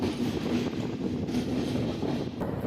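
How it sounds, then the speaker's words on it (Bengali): Himgiri Express rolling on the line between Mokama and Barhiya stations, a steady, loud rumble of wheels on rails with a continuous low drone and faint rhythmic clatter throughout. "ট্রেনের চাকা গড়ালো মোকামা স্টেশন থেকে।"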